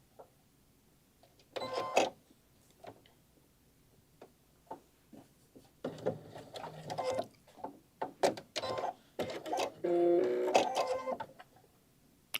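A sewing machine back-stitching while sewing a wine carrier, running in short bursts: a few stitches back, a few forward, with brief pauses and clicking handling noises between runs.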